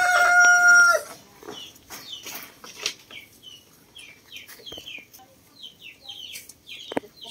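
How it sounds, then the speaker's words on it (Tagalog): Free-range Dekalb Brown, Rhode Island Red and Black Australorp chickens crowing and clucking in a farmyard, a loud rooster crow up front followed by a scattered chorus of nearby clucks and chirps. "So nandito lang yung mga brown decalb, tapos may ibang kasamang Rhode Island Red at Black Australorp."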